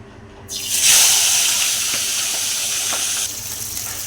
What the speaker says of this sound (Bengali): আমি এখানে কড়াইয়ে তেল দিয়ে দিয়েছি দিয়ে মাছের মাথাটা নুন রোদ মাখিয়ে ভেজে নেব